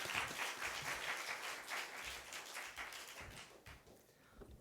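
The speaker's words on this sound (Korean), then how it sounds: "나오실 때 박수로 우리 목사님 환영하도록 하겠습니다." A church seminar audience claps in sustained applause to welcome a visiting pastor, a dense wash of many hands that fades slightly toward the end, with no talk.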